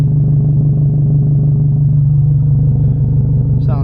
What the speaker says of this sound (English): this is what the car sounds like at idle. It's not crazy loud, but it still has a very nice loud grumble, just at idle.